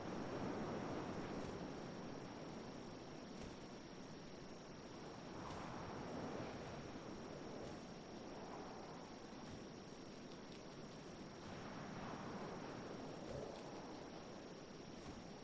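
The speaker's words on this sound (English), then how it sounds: "First, all I heard was the wind." Steady wind rushes and gusts through the video game What Remains of Edith Finch, a continuous broadband roar that swells and fades in slow waves, with no voices.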